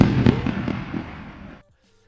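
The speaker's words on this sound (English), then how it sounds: "What a great fireworks show." Fireworks go off in a dense, loud crackling rumble of bursts and pops that builds, then cuts off abruptly into near silence.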